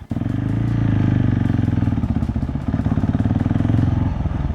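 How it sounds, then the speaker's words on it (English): A 2021 KTM 690 SMC R single-cylinder motorcycle ridden at steady speed, its engine throbbing loudly and close with a rhythmic pulsing drone, a slight dip in pitch around the fourth second before holding steady again. "We're on a bike."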